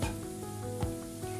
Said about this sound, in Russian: Шампиньоны обжариваются.